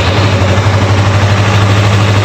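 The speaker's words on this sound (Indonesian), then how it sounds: "Ini motor Yamaha R25 pengeluaran tahun 2016." A 2016 Yamaha R25 two-cylinder sport motorcycle idles close by, a loud, steady low-pitched throb with even pulsing and no voices over it.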